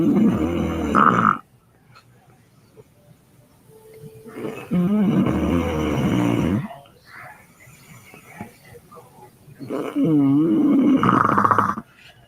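A woman's snoring played back from a recording: three long, loud, rasping inhalation snores with quiet gaps between, deep rattling breaths close to the microphone.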